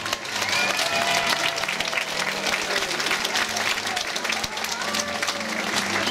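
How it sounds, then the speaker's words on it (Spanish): Crowd applause at an outdoor political gathering in Boyacá, a dense, steady wash of clapping that fills the scene without pause, with some voices mixed in. "démosle el mejor de todos los aplausos en esta tarde"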